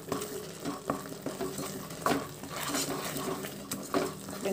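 A spatula scrapes and stirs chilli powder, turmeric and salt into fried brinjal for a stuffed eggplant curry, giving repeated close scraping strokes over a steady, soft sizzle.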